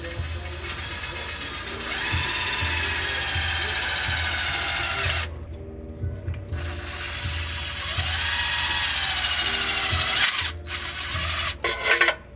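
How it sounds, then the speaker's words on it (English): A power drill whirs close by in sustained high-pitched bursts, driving a sheet metal screw during a Ford F250 transmission swap, briefly stopping and restarting, ending with a few sharp clicks as the screw seats. "So I'm gonna drill it in there real quick."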